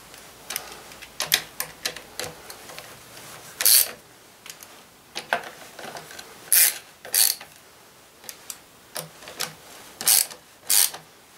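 A hand ratchet tightens a part back onto an old Wolseley engine during reassembly. It makes a close, moderately loud run of short dry clicks in irregular bursts with brief pauses between them, and no one speaks.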